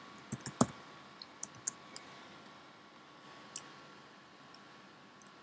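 A menu header typed on a computer keyboard, with sparse, separate key clicks at irregular gaps, faint and close, and no talking.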